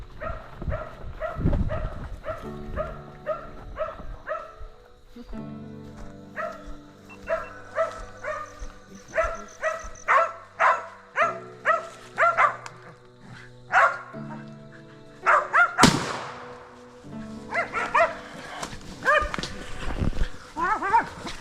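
Hog-hunting bailing dogs barking loudly and repeatedly at a wild boar, rhythmic bursts of close barks and yips with occasional whimpers, running for a long stretch.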